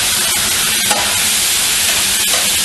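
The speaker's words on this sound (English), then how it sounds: "Give it a little stir." Chicken frying in an MKN FlexiChef as it is stirred, a constant loud sizzle and hiss with a few brief scraping clicks from the stirring, close up and without speech.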